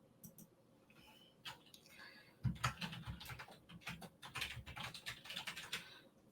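Typing on a computer keyboard while entering text for a shirt design, a rapid, irregular run of close, crisp key clicks that grows busier and denser after a quieter start.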